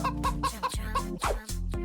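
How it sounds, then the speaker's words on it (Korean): A chicken clucks in a rapid run of about seven short, throaty clucks, close and fairly loud, with brief gaps between them. "저 교활한 닭 같으니"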